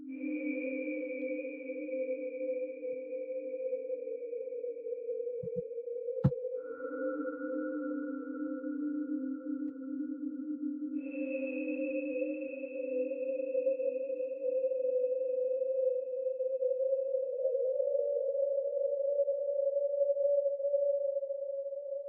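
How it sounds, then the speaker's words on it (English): Dark, sustained ambient drones with eerie pitched tones that hold and then shift, made with Aether and Valhalla Supermassive reverb plugins for an abandoned slaughterhouse mood. One faint click cuts through midway. No voices. "abandoned slaughterhouse kind of sounds like this"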